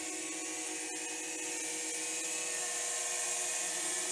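A DJI Mavic Mini drone landing automatically, its propellers giving a steady high-pitched whine with a sharp click early on, close and continuous.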